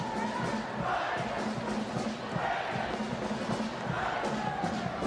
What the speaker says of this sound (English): Another sellout crowd here at the Devaney Sports Center